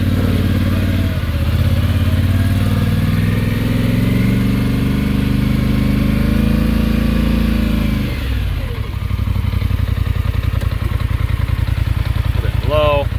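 Polaris Sportsman 850 ATV, a 2021 model, running steadily with a loud low engine drone that dips briefly then returns with a rapid pulsing rumble, close up, as it is ridden.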